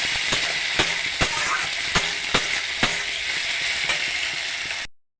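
Green chili and cumin-ginger paste fry in a hot pan with a steady bright sizzle, broken by several sharp, regular scrapes and taps of a stirring spoon, close by.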